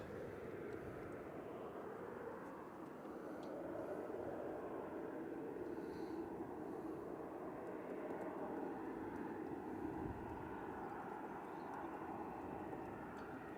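A jet airliner climbs away from Manchester Airport in gusty wind, its engines a broad, steady distant roar that holds throughout.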